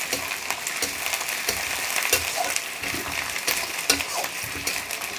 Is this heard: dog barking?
no